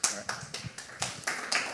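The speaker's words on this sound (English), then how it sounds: "So please give a round of applause." An audience at a technology conference talk applauds, though it comes through as a few sparse, separate claps in an irregular rhythm, moderately close and fairly quiet.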